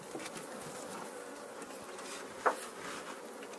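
A captured swarm of bees buzzes steadily inside a hive box, a dense, even drone that holds throughout, with one brief sharper knock or tap partway through.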